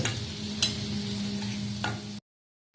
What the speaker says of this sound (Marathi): सगळे मसाले व्यवस्थित आपण परतवून घेतोय आधी तेलामध्ये